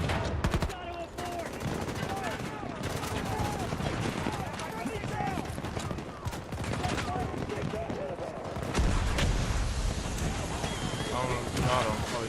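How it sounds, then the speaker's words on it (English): Dense, nonstop gunfire in Battlefield 2042 on PS5: rapid overlapping shots and bursts fill the whole stretch at steady high loudness, with voices talking over the battle. "He's shooting at the wall."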